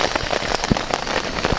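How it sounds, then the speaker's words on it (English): Steady rain pattering on a tent outside, a dense continuous hiss with scattered sharper drops landing close by, no voices. "it's raining and I'm not going out there until it slacks off a little bit"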